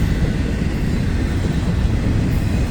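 A freight train with steel flatbed cars rolls past close by, a loud, steady low rumble of wheels on rail with no breaks and no voices.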